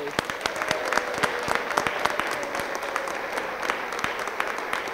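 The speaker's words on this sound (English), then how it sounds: "We applaud you." A graduation ceremony crowd applauds, with many hands clapping in a steady wash and sharper individual claps standing out, heard from a moderate distance.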